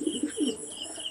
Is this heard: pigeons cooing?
yes